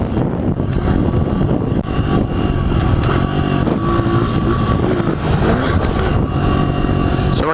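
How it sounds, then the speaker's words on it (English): A dirt bike engine during an improper downshift, a loud, close, continuous engine roar with uneven pitch shifts and wind buffeting throughout. "This is what an improper downshift kind of sounds like."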